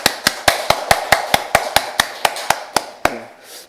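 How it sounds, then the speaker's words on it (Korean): A Sunday church congregation claps in unison on cue, about fourteen sharp, loud claps in a steady, even rhythm. The clapping stops near the end, leaving a brief faint tail. "우리 한번 박수 한번 크게 한번 쳐볼까요?"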